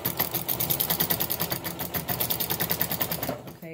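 A sewing machine stitching the hem of blackout lined curtains, running steadily with a fast rhythmic whirring pulse, close and loud, then stopping just before the end.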